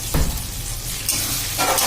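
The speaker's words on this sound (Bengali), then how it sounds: "মশলাটা আমার ভালোভাবে ভাজা হয়েই গেছে, দেখুন তেল ছাড়ছে।" Ground spice paste of dried chilli and coriander fries loudly in oil for a mutton curry, a close, continuous sizzle with brief stirring scrapes and no speech.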